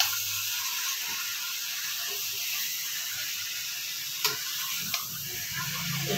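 Chicken meat fries in hot oil in a Bengali home cooking setting, a constant bright sizzle and hiss filling the background, with a couple of brief clicks from stirring near the end.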